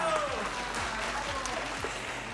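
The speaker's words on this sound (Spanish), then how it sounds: "Mi querida Sandy, un aplauso para ella nuevamente." Studio audience applause fills a live television program, steady and dense throughout with a bright musical tone sliding over it and some voices mixed in.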